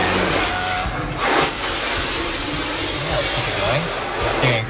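An automatic car wash sprays water over a car, heard from inside the vehicle as a loud, steady roaring hiss with low rumbling swells that rise and fall.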